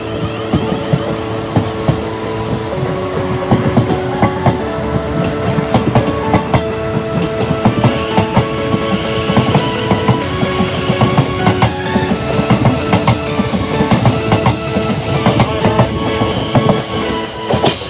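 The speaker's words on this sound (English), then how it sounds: "This is where I get off the train and let it continue onto London Waterloo." A Class 707 electric train departs close by with a loud, steady rumble, rhythmic clickety-clack of wheels on rail joints and whining motor tones throughout.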